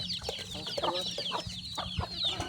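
Backyard village chickens cluck and chatter continuously while being fed paddy rice in the evening, several birds close by with overlapping calls and no talk.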